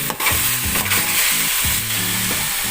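Pansit bihon rice noodles with beans being stirred in a pan, giving a loud close sizzle broken by a few scraping, rustling strokes of the spatula.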